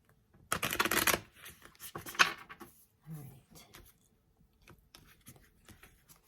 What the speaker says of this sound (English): Let me get one more shuffle here.